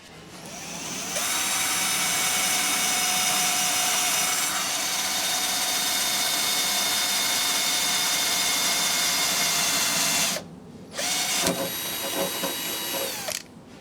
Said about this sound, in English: drill these first 2 holes here and then test fit